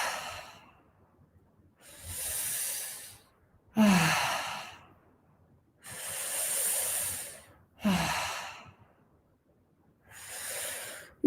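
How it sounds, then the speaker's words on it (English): Slow, gentle connected breathing in a guided exercise: six unbroken breath cycles, each airy inhale rising straight into a soft, sighing exhale about every two seconds, close to the microphone with no talking. "will do 10 connected breaths. Gentle breaths."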